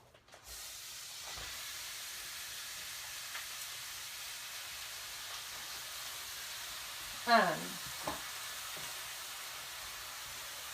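Lean ground turkey browns in a pan with a steady, soft sizzling hiss that runs through the whole stretch, with a couple of faint brief clinks or voice-like sounds near the end.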